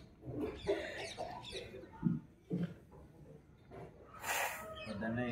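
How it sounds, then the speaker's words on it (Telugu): Chickens clucking in short bursts at a farmyard, fairly quiet and mixed with people talking close by. "కోళ్ళు"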